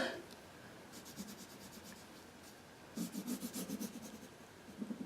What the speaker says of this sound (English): I'm just scribble coloring straight across this.